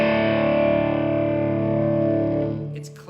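An Epiphone Gold Glory electric guitar with P90 pickups rings out as a sustained, warm chord through an amplifier, holding for a few seconds before fading, with a faint scrape as it is muted.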